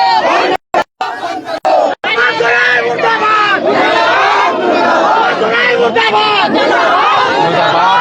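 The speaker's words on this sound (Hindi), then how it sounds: "मुर्दाबाद के नारों से गुजरा है यहाँ पर माहौल" Loud protest crowd chanting anti-government 'murdabad' slogans in unison at a demonstration in Jarmundi, Dumka, over a petrol killing; rhythmic shouted chants fill the whole stretch after a few brief breaks at the start.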